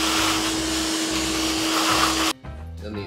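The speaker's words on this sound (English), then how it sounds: "I'm just going to vacuum up all the residue." A vacuum cleaner sucks up residue from a VW Type 4 2056 engine case for a Porsche 914, roaring loud and steady up close with a high whine for about two seconds before cutting off abruptly.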